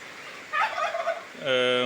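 Native spotted Kappiri chickens call out in two short bursts, the second a loud, tonal squawk near the end, with no talking.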